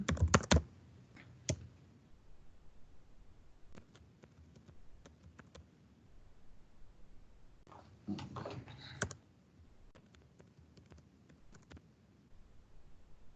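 Keystrokes on a computer keyboard as a password is entered, a quick cluster of clicks at the start, scattered single taps, then another short burst of typing, close and fairly soft.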